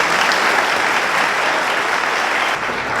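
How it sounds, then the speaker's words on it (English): A large event crowd gives a round of applause for a speaker, a thick continuous wash of clapping that holds steady and loud throughout, easing slightly at the very end. "Ladies and gentlemen, please one more round of applause"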